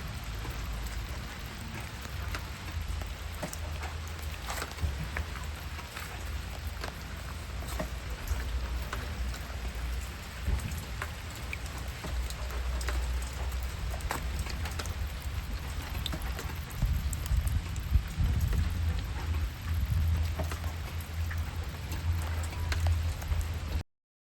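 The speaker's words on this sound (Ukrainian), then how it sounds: "дощик іде." Steady rain patters continuously on water and surfaces, a dense, even hiss with scattered drops and a low rumble underneath.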